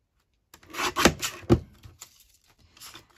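Paper edges being trimmed for handmade ephemera: after a half-second of silence come a few close, brief rasping slices and rubs over about a second and a half, then a faint final scrape.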